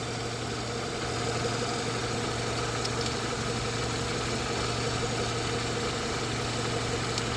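A Renault Megane 2 1.6 16v engine idles steadily with a low, even hum and faint vibration, running continuously without revving.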